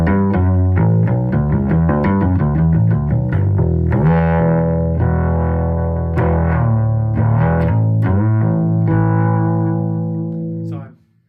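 An upright bass amplified through a Biesele pickup alone, taking on a big electric-bass character: a steady stream of plucked notes, full and loud, sustaining before a sudden cutoff.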